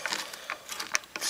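A hand ratchet clicks while loosening the wheel of a lawnmower during maintenance, giving a few light, uneven metallic ticks and rattles close by, with no talking.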